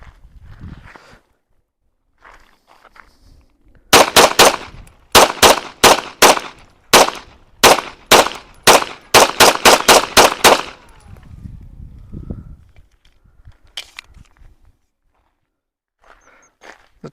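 A firearm fires a rapid string of about sixteen sharp, loud shots into the dirt at an outdoor range, with brief handling noise and faint quiet sounds before and after.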